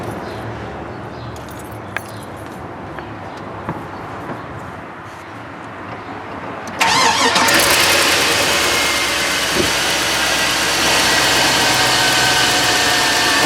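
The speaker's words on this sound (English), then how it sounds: "So I'm going to go ahead and start the vehicle up now" A vehicle engine cranks and catches partway through, after quiet clicks and small rattles near the hood during alternator testing. It then settles into a loud, steady, close idle that runs to the end.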